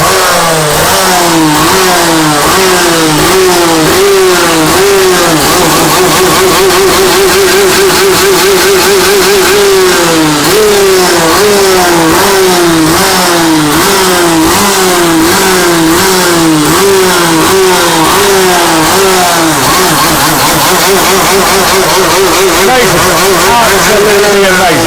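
A Tony Kart racing kart engine in a paddock is started and revved hard, loud and close, its pitch rising and falling in repeated throttle blips with a steady idle between them for about 25 seconds.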